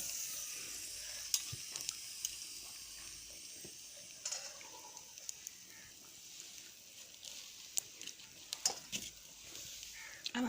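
Pakoras frying in hot oil for kadhi pakora: a faint, continuous sizzle with scattered small pops and crackles, plus occasional clinks of a stirring utensil, with no talking.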